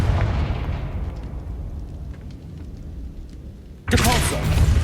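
A Confringo blasting spell goes off in the video game Hogwarts Legacy, with a rumbling blast that fades out, followed by a sudden loud burst near the end.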